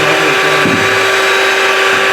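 A blender whirs loud and continuous as it mixes eggs and oil into mayonnaise, a steady high motor drone that shifts pitch briefly early on, with no talk.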